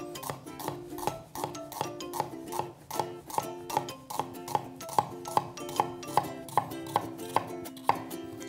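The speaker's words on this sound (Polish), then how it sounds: "Cebulę kroisz na pół." Crisp, evenly spaced knife chops on a board as an onion is cut, a close, regular series of taps that quickens slightly toward the end, with no talk.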